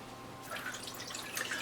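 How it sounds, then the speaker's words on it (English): Water pours steadily into the reservoir of a Root Farm hydroponic garden, a soft continuous splashing that starts after a brief quiet moment. "So we are going to put some water in here and get this baby going."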